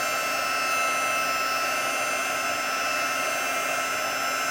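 Handheld heat tool blowing hot air onto embossing powder during paper crafting, a steady, loud, close-up whooshing hum held for several seconds with no talking.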